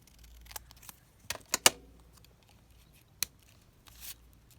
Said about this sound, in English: Just cut that in half.